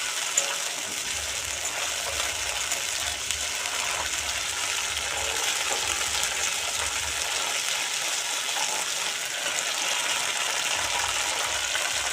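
Food frying and being stirred in a pan on a home stove, a steady hiss of sizzling oil with soft scraping stirs underneath, continuous and close.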